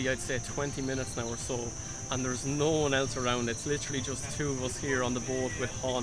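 Cicadas trill steadily in the background by the Mekong River near Can Tho, Vietnam, a continuous high buzzing chorus beneath someone talking throughout.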